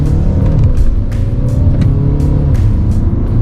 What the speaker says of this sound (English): so you can make out it's a diesel engine, but it's not too intrusive